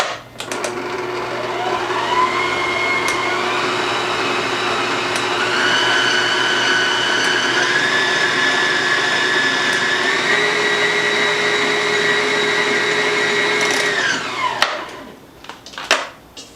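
An electric mixer beats two cups of all-purpose flour into shortbread dough for lemon curd tarts, a steady loud motor whine that holds for about fourteen seconds, shifts pitch slightly, then winds down and stops.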